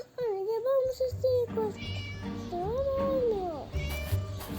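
A teacher's cat in the video game Scary Teacher meows several times in a row, each cry drawn-out with rising and falling pitch, loud and close, over a low background hum, with no talking.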